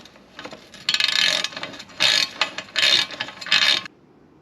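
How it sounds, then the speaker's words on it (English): Ratcheting wrench tightening 7/16 bolts on an electric fan and shroud in a 1979 Jeep Cherokee, several close, loud bursts of rapid clicking separated by short pauses, with no talking. "I'm going to be tightening up the bolts on the fan."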